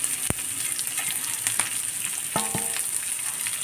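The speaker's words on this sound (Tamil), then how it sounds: "இதெல்லாம் கொஞ்சம் லேசாக வதங்கினா போதும்." Green chili, ginger and curry leaves sauté in hot oil with mustard seeds and lentils, giving a close, constant crackling sizzle with a few sharp taps of the spoon.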